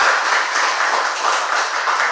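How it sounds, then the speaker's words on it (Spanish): A church congregation gives loud, sustained applause to God during a Spanish-language service. The clapping forms a thick, even roar of many hands that holds steady from start to finish with no voices over it. "Denle un fuerte aplauso a Dios"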